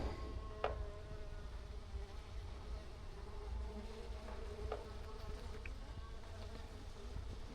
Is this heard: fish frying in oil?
no